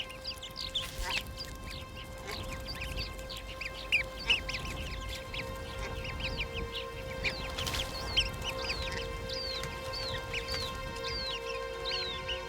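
Baby goslings peep in rapid, high, repeated chirps near and far, with occasional lower honks and calls from adult geese underneath, continuing throughout.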